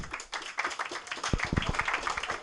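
Diners at a Parisian political dinner applaud, a loose scatter of individual hand claps and patters, moderately close, with uneven rhythm and some low thuds mixed in.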